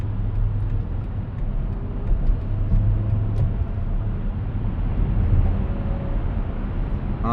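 Steady low drone of a car cruising on a highway, heard from inside with constant road and engine rumble, moderately loud and unbroken, no voices.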